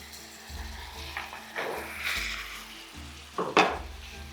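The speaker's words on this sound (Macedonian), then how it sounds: "Сега ќе го ставам месото внатре." Meat for turli musaka sizzles in a frying pan, with intermittent stirring scrapes and clinks of a utensil against the pan, close and moderately loud.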